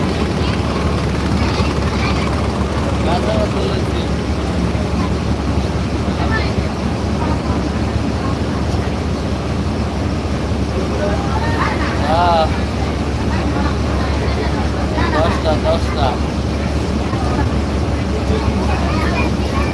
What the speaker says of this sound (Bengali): লঞ্চের পর্দা বাতাসে দাও কিভাবে উড়াইতে আছে